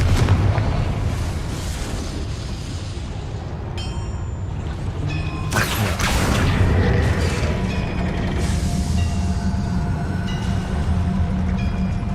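A fiery blast spell bursts in a video game. One sharp explosion hits partway through, over continuous clanking mechanical and rumbling game ambience.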